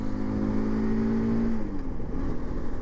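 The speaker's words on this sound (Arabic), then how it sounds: "كيف ما كتشوفوا الموتور دابا فاش كنسوقو انا بوحدي" SYM NHT 200 motorcycle engine while riding, a steady close drone with wind noise. The engine pitch glides slightly downward partway through, and no voices are heard.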